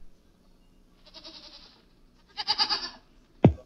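A few goats bleat on a small farm in two short bursts, the second louder, followed by a sharp close thump, with a quiet stretch before and no talking.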